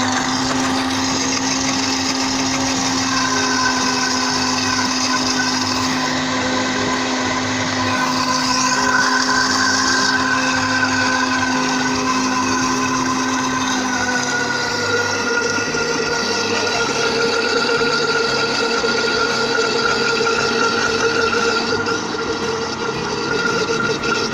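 A blender runs at high speed while oil is slowly added to make chicken mayonnaise, giving a loud, constant motor drone whose pitch shifts as the mixture thickens, with no talking.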